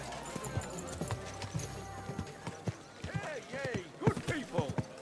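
Horse hooves clip-clopping in the medieval game Kingdom Come: Deliverance 2, a steady close trot with a snort or whinny, while voices talk over it.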